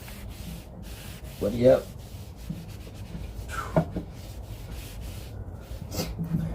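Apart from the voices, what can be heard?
shop towel rubbing clear sealer onto wooden shelf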